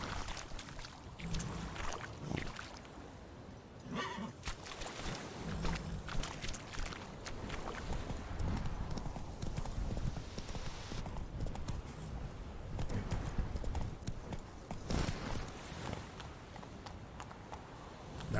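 Roach, a horse in The Witcher 3, moves at pace with a continuous run of clip-clopping hoofbeats, close and fairly loud over a busy background.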